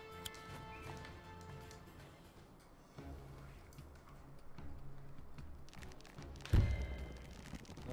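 Horses gallop in a clip-clop rhythm in the Wargroove video game, alongside scattered game effects and a sudden loud impact near the end, all at a moderate level without voices.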